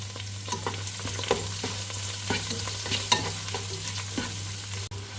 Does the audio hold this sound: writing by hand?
no